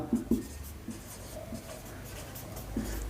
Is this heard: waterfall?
no